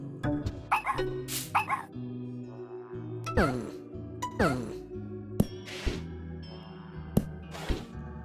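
Dog barks and yips from a video game ring out in short bursts over steady game music, with a few sharp clinks between them.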